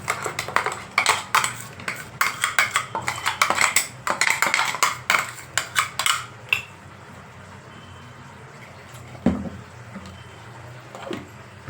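A spoon scrapes coconut chutney for idli from a vessel into a bowl. Quick metallic clinks and scrapes continue for about six seconds, then near quiet with a couple of faint knocks.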